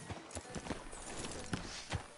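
Horse hooves clip-clop in a video game, irregular and fairly faint, a quick scatter of hoof knocks on hard ground.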